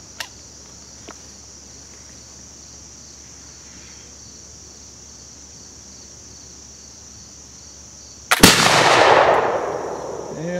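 A single shot from an 18th century civilian smoothbore gun loaded with a round ball cracks out loudly near the end, followed by a rolling, decaying echo over a quiet outdoor background with steady insect buzz.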